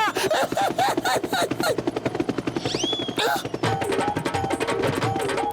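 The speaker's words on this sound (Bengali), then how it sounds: "ও নো, হেলিকপ্টার এদিকে আসছে, এবার কি হবে?" A cartoon helicopter approaches with a loud, rapid rotor chop, pulsing steadily through the scene alongside bright effects and music.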